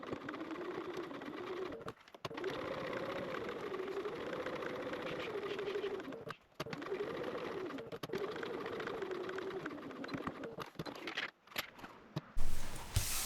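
A sewing machine top-stitches pressed binding tape along the top of a fabric pocket, running in a steady continuous whir with a few short stops and restarts, loud and close with no talk.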